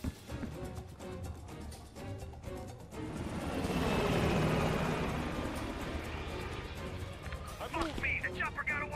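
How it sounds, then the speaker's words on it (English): Helicopter in Call of Duty: Black Ops Cold War, its rotor roar swelling to a loud broad rumble midway and then fading as it flies off, mixed with game effects and shouted voices. "The chopper got away!"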